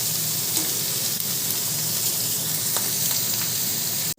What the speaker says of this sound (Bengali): দেখো মাছটা এবার ভেজে নিচ্ছি।